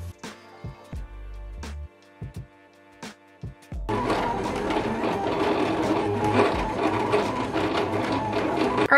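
A vinyl cutting machine slices heat transfer vinyl on a mat, first with sparse clicks and short motor whirs, then a sustained busy buzzing and rattling of the carriage and blade, moderately close and fairly quiet.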